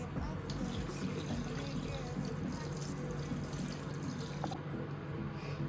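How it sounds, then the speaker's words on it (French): Water is poured out slowly in a kitchen, a continuous soft trickle and splash that stays steady and fairly quiet for the whole stretch. "Donc là, je vais jeter l'eau tout doucement."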